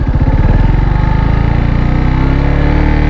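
Motorcycle engine running steadily nearby with a strong, rhythmic low throb as a beginner rider eases along, loud and close with no talking.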